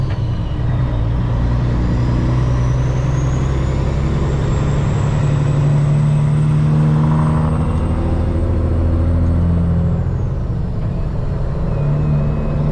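A truck's multi-axle trailer with lift axles just lowered, its air system rushing to build pressure back up; steady, loud hiss-laden rumble of the idling rig continues throughout, with no talking.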